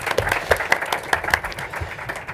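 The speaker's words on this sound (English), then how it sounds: "I have to ask for an applause for Fred." Audience applause at a film distribution panel during the Sitges festival, a short burst of clapping with a few sharp, distinct claps standing out over a murmuring crowd.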